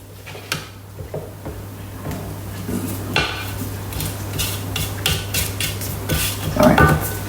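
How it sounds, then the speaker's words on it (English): A utensil scrapes and clinks against a Thermomix bowl while oat biscuits with molasses are being made. The scrapes are close-up, repeated and irregular, with metallic knocks between them. "Once I start scraping, it's really hard to stop"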